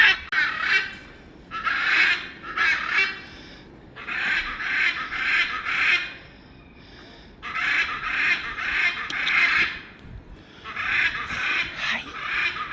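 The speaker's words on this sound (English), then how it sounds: "very loud bird" A very loud bird honks in repeated harsh bursts, four long runs of honking separated by short pauses, close and dominant with no talk.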